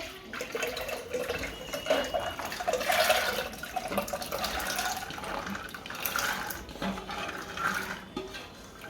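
Water pouring into a pot of desi chickpeas before boiling, a continuous splashing trickle that swells and eases, with no talking.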